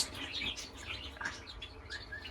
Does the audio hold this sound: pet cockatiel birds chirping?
yes